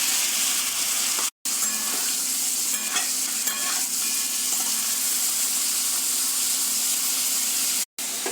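Cubed paneer sizzles in melted butter in a pan, a steady dense frying hiss that runs throughout with faint stirring scrapes, broken by two brief silent gaps.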